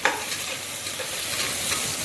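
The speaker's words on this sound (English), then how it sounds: "Now just stir it up a little bit." Onions and green chilies frying in a pan, stirred with a utensil: a loud, close, continuous sizzle with scraping stir strokes throughout, no voices.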